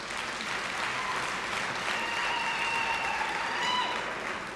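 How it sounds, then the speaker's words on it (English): An audience applauds at a university summer graduation ceremony in Pretoria, a steady, fairly faint wash of many hands clapping at once, heard alone without speech. "If you feel like clapping hands, please proceed and do it."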